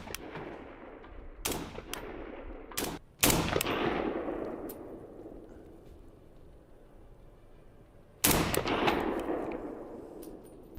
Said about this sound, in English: I fired off a bunch of shots into a concrete barrier to see how the weapon would perform